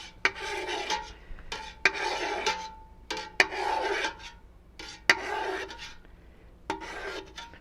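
A knife slices through a block of homemade curd cheese at regular two-centimetre intervals, each stroke giving a close, soft rasping scrape that repeats every second or so.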